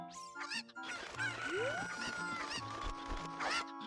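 Video game chickens cluck and squawk in short bursts over a busy layer of game music and effects, the calls repeating irregularly at moderate loudness.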